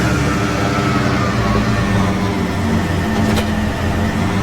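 A heavily modified tractor engine in a farming video game, the big tractor's low steady drone running loud and continuous throughout with a brief brighter rise near the end.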